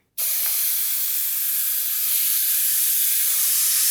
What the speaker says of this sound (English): Paint gathering in the cap and then splatting.